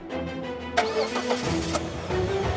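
A car engine cranking and catching into a steady idle in a dramatic television scene, the starter whir followed by a low running hum, close and alone.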